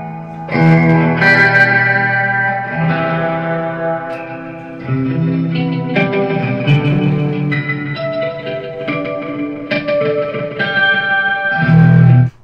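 Electric guitar through a Marshall Code 25 amp with ambient effects, sustained chords and melodic notes washed in reverb, echo and chorus, loud and close with no talk.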